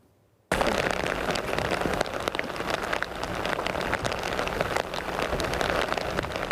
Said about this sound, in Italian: Pioggia scrosciante